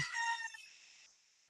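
A rooster crows once in the distance, a faint, drawn-out call that trails off after a second amid a quiet indoor room.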